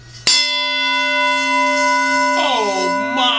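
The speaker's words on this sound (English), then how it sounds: "It's a great cast brass bell, very heavy, comes with a handle on the top." A heavy cast brass hand bell with a top handle is struck once, giving a loud, bright clang that rings on with a long sustained tone, and a faint second swing shimmers in near the end.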